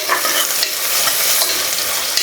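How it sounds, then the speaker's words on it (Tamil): Onions sizzle loudly in hot oil while being stirred in a pan for mutton biryani, a close, continuous hiss with soft scraping. "இது பெருசாக இருக்கிறதுனால 2 பெரிய வெங்காயம் போட்டுக்கிறேனுங்க."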